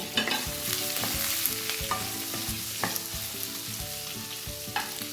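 Capsicum and other vegetables sautéed on a high flame in a pan for vegetable biriyani, with a steady close sizzle and repeated rhythmic scrapes and knocks of a spoon stirring throughout.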